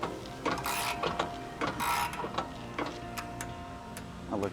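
A ratchet cranks a bushing press tool to seat a Z1 monoball bushing into a G35 rear knuckle, giving a steady run of close mechanical clicks and creaks with short bursts of louder grinding.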